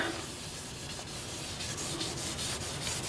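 Continuous sanding of maple wood on a lathe, a steady abrasive rubbing with a faint rhythmic pulse, close and alone.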